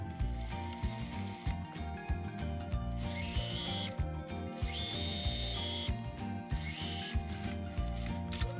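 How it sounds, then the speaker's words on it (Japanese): Sewing machine stitching around the cuff of a tunic sleeve, a steady mechanical rattling whir in repeated bursts with brief pauses, close and fairly loud, with no talk. "こんな感じでぐるっとステッチをかけていきます。"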